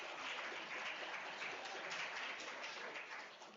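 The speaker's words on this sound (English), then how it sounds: "So a round of applause to ourselves." Applause from the audience at a national records management conference, a steady broad wash of clapping that stays at a fairly even level and fades slightly at the end, with no talking over it.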